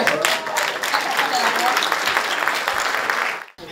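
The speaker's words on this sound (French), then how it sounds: "Et Reda Saoui, oui, on peut l'applaudir." An audience at a foundation gala applauds a stand-up comedian, a loud sustained burst of clapping with some voices mixed in that drops off abruptly near the end.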